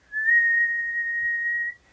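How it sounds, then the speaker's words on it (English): A person whistles one steady, sustained high note into a homemade condenser microphone for nearly two seconds, clear and close against a quiet background. "I'm going to go ahead and pick this up and whistle at it"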